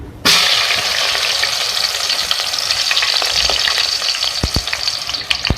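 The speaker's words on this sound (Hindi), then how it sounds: "प्याज को हम फ्राई करेंगे" Onions frying in ghee in a pan give a steady, close sizzle with a few small clinks near the end. Nobody speaks.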